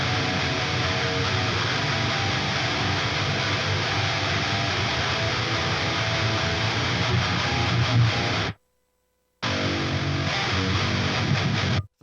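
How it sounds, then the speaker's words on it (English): Heavy distorted guitar tone from an amp sim preset called Roasterscope, a dense, saturated wall of chugging riffing that cuts out briefly for a moment of silence before resuming. "For the heavy tones, I was using this preset called Roasterscope,"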